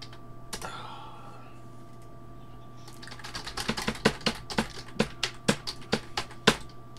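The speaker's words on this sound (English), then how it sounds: "We're banging on keyboards today." Typing on a computer keyboard: a quiet stretch opens, then a dense run of sharp key clicks builds, growing louder and more irregular toward the end, close and with no voices.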